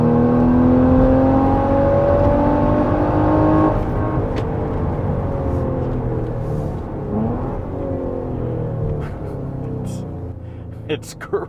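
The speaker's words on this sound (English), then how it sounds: "the sound that's inside the car, when I put it into sport mode" A Maserati Levante engine in sport mode, heard from inside the cabin as a loud, steady rumbling drone that rises in pitch, then eases into a lower, fainter hum.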